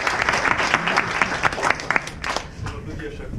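A theatre audience applauds at a sold-out stage comedy, a dense burst of close clapping from a full house that tapers off within a few seconds, with a voice speaking over it.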